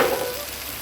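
Spices hiss and crackle in hot oil in a pan while frying for a tilapia curry, a steady close sizzle over a brief moment, with no voices.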